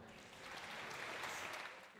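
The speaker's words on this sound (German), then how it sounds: "ich hoffe auf einen dicken Applaus" Brief, distant applause at a culture event welcoming a new minister of culture, a soft continuous patter of many hands that swells slightly and then fades. Some speech may blend into it.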